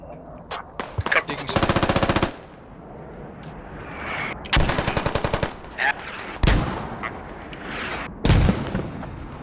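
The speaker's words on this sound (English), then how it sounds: "Are those friendly mortars on Hemp?" A mortar salvo lands during a tactical multiplayer shooter scrim, with rapid bursts of automatic gunfire alternating with heavy single booms, loud and close.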